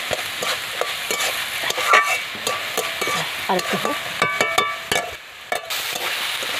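Banana stem pieces being stirred and turned in a frying pan while they cook soft, with steady scraping and clinking of the spatula over a low sizzle, close and busy throughout.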